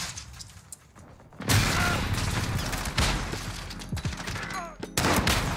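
Precision airstrike landing in a first-person shooter match: a sudden loud burst of explosions and rapid gunfire that stays dense and busy, with sharp impacts scattered through it and a voice speaking over the action.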